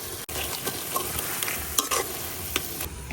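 Red amaranth greens (lal shak) are stirred and mashed in a pan (karai), with steady scraping and soft squelching strokes over a continuous low sizzle, close and fairly loud, with a few sharper clinks of the utensil. No one speaks.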